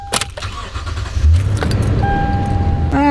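A Toyota Tundra pickup unlocks with a chirp and clicks, then its engine cranks and catches, settling into a steady close idle with a brief high tone near the end.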